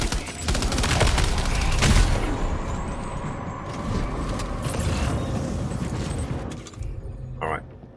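Sustained bursts of gunfire from a fight in the video game Death Stranding 2 against a Ghostmech, dense and loud through most of the stretch before thinning out near the end, with a player talking over it.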